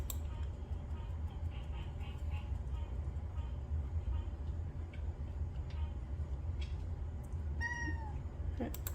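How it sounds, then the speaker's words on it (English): A house cat meows near a desktop PC that is installing Linux, with a couple of short cries near the end over a steady background rumble and hum. "my cat is very interested in what I'm doing"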